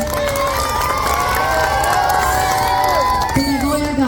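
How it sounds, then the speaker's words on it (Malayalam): An audience claps and cheers loudly and continuously, a close wall of crowd noise with shouts mixed in throughout. "കയ്യടി പോരട്ടെ"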